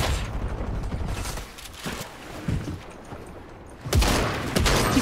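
Shotgun blasts and gunfire in the video game Fortnite, a few loud booming shots with rattling bursts in between, close and heavy, with no talk over them.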